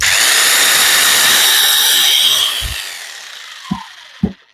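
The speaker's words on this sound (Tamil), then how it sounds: "சாரி, இது ஹேமரிங் ஆப்ஷன்" A loud Dong Cheng rotary hammer in hammering mode roars steadily for a couple of seconds, then winds down into a few sharp knocks and clunks.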